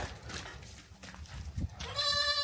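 Goats in a pen on a cattle farm: low shuffling and background noise, then one goat lets out a clear, close, wavering bleat at the end.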